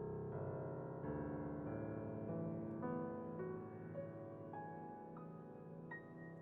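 A piano sounds a densely clustered chord of all twelve notes, harsh and dissonant, followed by a run of sustained overlapping notes that ring together and slowly decay, played live in a concert hall with no talking.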